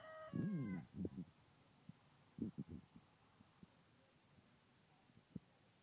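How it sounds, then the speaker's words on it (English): A small chicken visiting a backyard makes a loud squawking call at the start, then gives short, sparse clucks and murmurs at varying distance with quiet pauses between them. "So he's the visiting chicken."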